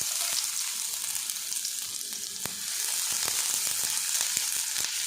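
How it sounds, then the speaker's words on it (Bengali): Chopped onion fries in hot mustard oil in a pan, a steady close sizzle with scattered sharp crackles and pops, no voices over it. "পেঁয়াজটা উল্টে পাল্টে আমি একটু লাল লাল করে ভাজা ভাজা করে নেব"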